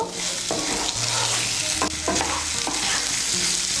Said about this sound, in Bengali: মিশিয়ে নিয়ে চালটাকেও মশলার সঙ্গে একটু ভালো করে কষিয়ে নেব।